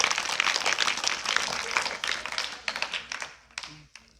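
Students in a government school in Bihar clap for a correct quiz answer, dense close applause that thins out into scattered claps before stopping.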